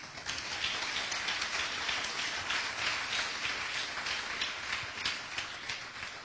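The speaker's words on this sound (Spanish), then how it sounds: "Den un aplauso al Señor." Steady, dense clapping from a congregation during a church sermon fills the whole stretch, a hissing, continuous wash of hands with no speech on top.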